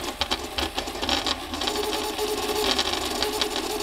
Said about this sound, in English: This is not the normal sound for a cheap and cheerful 3D printer.